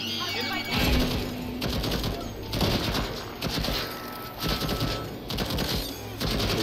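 Automated turret gunfire in the video game Deathloop, rapid bursts of shots rattling loudly and almost continuously over a busy game soundscape, with brief lulls between volleys.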